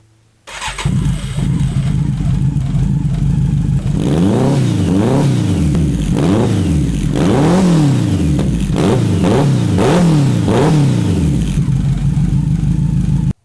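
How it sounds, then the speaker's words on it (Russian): Motorcycle engine breathing through a custom TIG-welded lobster-style exhaust system, idling loudly and then revving in a series of repeated throttle blips that rise and fall, close and continuous with no talking. "Да, мотик есть мотик. Звучит прикольно."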